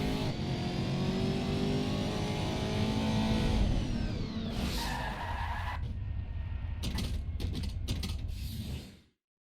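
Race car engine in Race Driver: Grid, screaming at high revs with tires skidding and squealing, then dropping off with clattering mechanical noises before cutting out abruptly.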